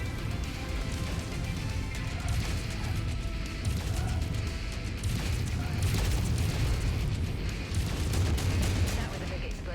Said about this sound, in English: That was a big explosion.